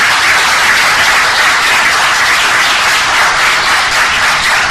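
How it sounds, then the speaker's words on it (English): Steady, dense applause from a large crowd, continuous and loud throughout without letting up. "I request you to please carry out with a very loud applause."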